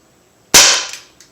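A single sharp crack from an Umarex SA-10 .177 air pistol fired at a row of metal grates, loud and close, decaying quickly with a faint second tick after.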